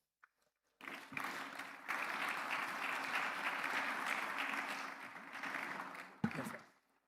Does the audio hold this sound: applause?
yes